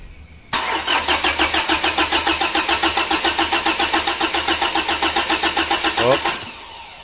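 A 2012 Mitsubishi Pajero Sport Dakar engine cranks loudly and steadily for several seconds, each rhythmic turn of the starter pulsing evenly, then winds down without the engine catching; the recording is close to the engine.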